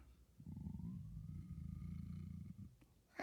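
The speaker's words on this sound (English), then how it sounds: "Then it purred." A black cat purrs steadily beside a fire, a low, rumbling vibration sustained for about two seconds at close range, then fading, followed by a brief soft rustle at the end.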